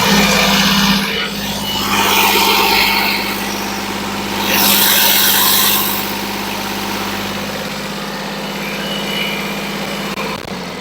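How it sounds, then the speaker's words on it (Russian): A Yanmar Ke3 compact diesel tractor engine runs steadily at close range, a loud even chug with a couple of brief surges in revs. "Сейчас дам послушать, как работает двигатель"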